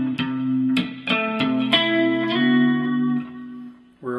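A guitar plays a short phrase from a song, arpeggiating a chord with a handful of clear picked notes that ring together, then fade before one final pluck; effects-tinged tone, no voice.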